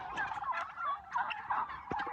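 Turkeys gobbling on a turkey farm in Qusar, Azerbaijan, a flock of overlapping rapid gobbles rising and falling in several bursts, fairly close and clear, with no talk.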